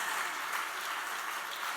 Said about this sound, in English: Can we clap, please?